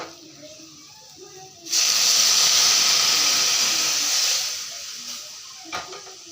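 Water poured into a hot pan of fried egg omelette and potatoes bursts into a loud, sudden hissing sizzle that holds for a few seconds and then tapers off, leaving quiet kitchen background.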